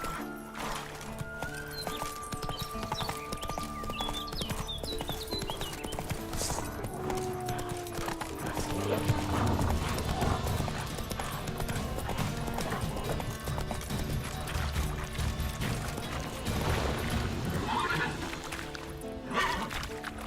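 Hoofbeats of Roach, the horse in The Witcher 3 video game, clip-clopping at a steady galloping rhythm for the whole stretch, close and fairly loud over game music and ambience, with an occasional whinny.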